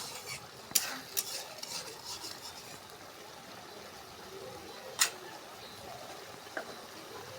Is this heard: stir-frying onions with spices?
yes